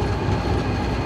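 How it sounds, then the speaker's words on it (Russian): Freight locomotive hauling a heavy train of about 5000 tonnes, a loud, steady rumble of rolling wagons and engine heard close up without pause. "и 5000 тонн потянет грузовой локомотив"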